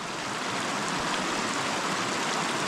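The Asi Ganga, a mountain stream flowing out of Dodital lake in Uttarakhand, rushes in a loud, dense, unbroken roar of water, close and steady throughout with no voices.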